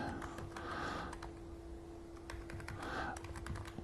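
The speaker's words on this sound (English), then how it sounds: "I just type that in" Someone is typing on a computer keyboard, producing soft, fairly quiet clusters of clicks in uneven runs over a steady low electrical hum.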